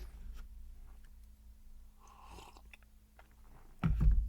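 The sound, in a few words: slurping sip of coffee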